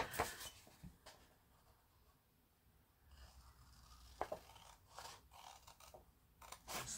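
Faint, sparse snips of scissors trimming paper below a score line while making a junk-journal policy envelope, a few soft cuts and rustles in a quiet room.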